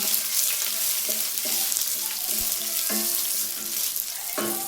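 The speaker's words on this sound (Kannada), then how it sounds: "ಮಣ್ಕಟ್ಟು ಮೆಣಸಿನ್ಕಾಯಿ, ಗುಂಟೂರು ಮೆಣಸಿನ್ಕಾಯಿ ಒಂದು 4-5. ಇದೆಲ್ಲ ಫ್ರೈ ಮಾಡ್ಕೊಳ್ಳೋಣ" Guntur and mankattu dried red chillies frying in a pan for a village-style country chicken bassaru, a soft steady sizzle with occasional light stirring clinks, no talking.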